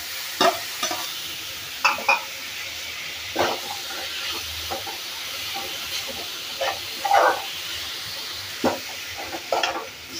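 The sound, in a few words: stir-frying grated vegetables, carrot and capsicum, in a pan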